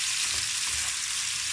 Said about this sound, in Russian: Картофель вовсю жарится